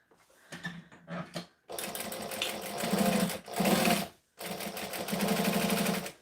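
A sewing machine runs in several bursts, top stitching an eighth of an inch from the edge of vinyl, with short pauses between loud, steady runs of rapid stitching.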